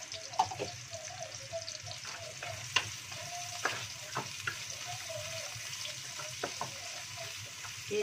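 Shallots and garlic stir-frying in a wok for a spicy clam-meat dish, a steady close sizzle broken by sharp scrapes and clinks of a spatula at irregular intervals, with no talking.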